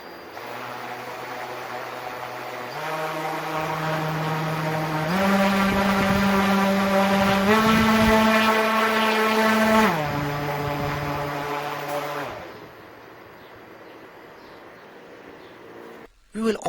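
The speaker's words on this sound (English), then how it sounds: "using the potentiometer, I can control the speed of brushless DC motor to its full capacity" A brushless DC motor on a potentiometer-controlled RC transmitter setup whines steadily, its pitch stepping up in stages to a high drone and then dropping back down before cutting off near the end.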